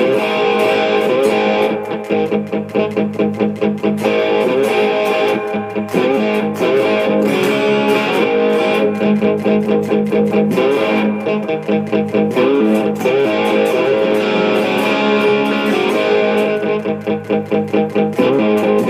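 An electric guitar played through IK Multimedia Amplitube 5 amp simulation with heavy reverb, a dense, distorted sustained riff with steady rhythmic picking that fills the whole stretch, loud and continuous.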